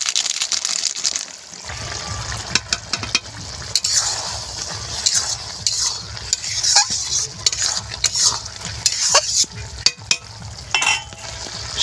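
Prawns with garam masala frying and being stirred in a pan over a wood stove, a loud steady sizzle broken by repeated sharp scrapes and clacks of the spatula, close up with no voices.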